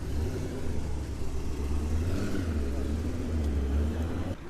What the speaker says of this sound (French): Alors là on a une Porsche 928, un design un peu spécial, donc là il va s'en aller